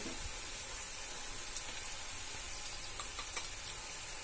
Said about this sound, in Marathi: आता कांदा मिरची वगैरे हे सगळं भाजून घेऊया